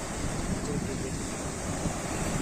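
Sea waves roll onto the beach at Chowpatty in Porbandar, a steady broad wash of surf with wind noise, continuous and fairly loud with no distinct breaks.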